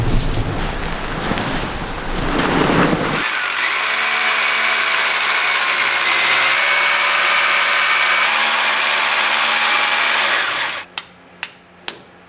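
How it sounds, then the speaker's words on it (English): A power drill bores anchor holes into a basement wall for rebar ties, a loud continuous whining grind running for about eight seconds after a rougher start, then cutting off, followed by a few sharp knocks. "we'll also drill anchors to tie into this section of the"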